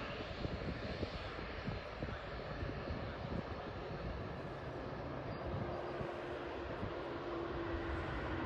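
A Qatar Airways Boeing 787 takes off at Birmingham Airport, its engines a steady, broad roar that holds strong throughout with no voices.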